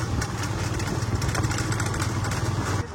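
A motorcycle carrying three riders on a road near Swarupkathi, Pirojpur, in Bangladesh, its engine droning steadily and close with a low throbbing hum that dips briefly near the end.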